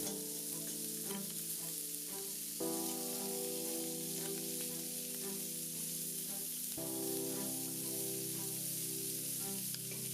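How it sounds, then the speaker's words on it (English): Beef short ribs searing in a hot pot produce a faint, continuous frying hiss that stays steady throughout, half-buried under sustained background music chords that shift twice. "Once they've got a nice sear going and there's tons of smoke coming out of the pot"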